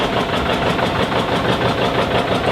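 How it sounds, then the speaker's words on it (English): A 1958 John Deere 820 tractor engine runs steadily at a parade of power, giving a loud, close, even mechanical chugging with a faint regular pulse throughout and no talk. "with his 1958 John Deere 820"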